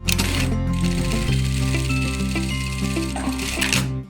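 A Sun Special industrial straight-stitch sewing machine running a test seam on denim, a loud continuous mechanical whir with a steady rhythmic stitching tone, close and uninterrupted for several seconds, with no talking.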